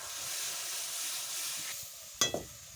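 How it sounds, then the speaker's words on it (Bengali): Turmeric and spices sizzle steadily in a pan for a chicken dish, a soft continuous hiss with two sharp scraping clinks of stirring near the end. "পরিমাণ মতো হলুদটাও দিয়ে দেবো। নাড়াচাড়া করে নেব।"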